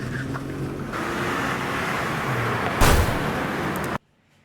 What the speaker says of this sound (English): That wasn't a good sound effect to use for someone getting hit by a car.